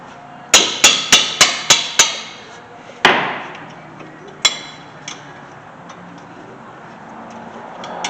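Hammer blows on a brake rotor being knocked off the front hub of a 2008 Toyota Corolla, six quick ringing metallic strikes in a row, then a heavier hit and a few scattered lighter taps, loud and close with no talk.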